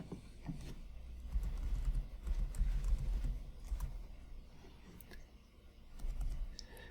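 Fingers tap out a username on a computer keyboard, quiet irregular clicks and key presses scattered over a low background hum, fairly faint and close, with no speech.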